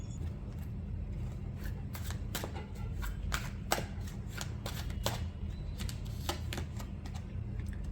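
Tarot cards handled and set aside, a run of quick soft riffling and flicking taps close by over a constant low hum, no voices heard.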